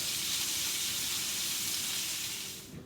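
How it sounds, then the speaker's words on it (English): Fat on the side of a New York strip steak sizzles loudly as it renders in a pan, a dense, continuous crackling hiss close up that eases off slightly in the final half second. "I'm going to take the steak like this and render the fat on the side."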